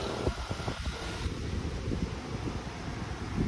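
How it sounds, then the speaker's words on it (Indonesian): Strong wind roars steadily and broadly across the microphone before rain near a limestone mountain bridge in South Aceh, a constant rushing with slight gusty swells. "Anginnya udah sekencang ini"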